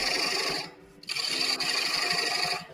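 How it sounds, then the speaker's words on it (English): A somewhat dull carbide cutter scrapes wood turning on a lathe while shaping a ladle chuck: a steady, close, coarse rasping that drops away briefly near the start, then resumes loud and continuous. "The carbide cutter I'm using here is a little on the dull side. It's not cutting like I would like it."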